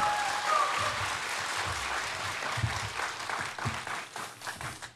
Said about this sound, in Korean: 목사님 나오실 때 큰 박수로 맞아주시기 바랍니다.